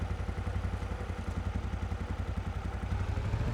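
A farm vehicle's engine in Farming Simulator 25 idles and warms up with a steady, loud, low rhythmic chugging and clatter, heard alone without voices.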